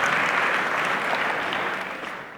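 A full audience at a youth leadership forum applauds a speaker, a dense, steady wash of clapping that stays loud and close throughout and tapers only slightly at the end.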